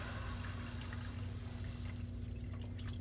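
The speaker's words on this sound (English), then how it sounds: "Now I'm gonna go ahead and pour in our seafood stock." Seafood stock is poured into a pan with garlic, making a soft, steady trickling rush of liquid over a low hum. It stays quiet and continuous with no voices.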